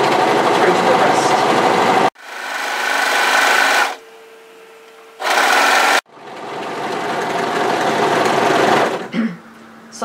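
Sewing machine running a long side seam on a knit tee from front hem to wrist, loud steady whirring in sustained stretches broken by short pauses and a change of pace, with no talking.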